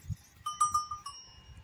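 Goats bleating repeatedly in short, nasal calls close by, with a steady tone and faint low rustling underneath.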